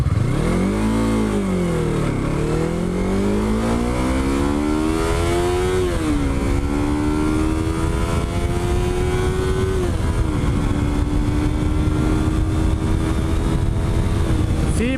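A 2016 Yamaha R3 motorcycle engine revs hard accelerating from 0 to 100 and climbs through its gears, pitch rising then dropping at each shift, loud and close, with no talking.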